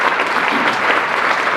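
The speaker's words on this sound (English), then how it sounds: "give a round of applause for that" An audience at a social media marketing panel breaks into steady, dense applause, a loud continuous patter of many hands clapping with no voices over it.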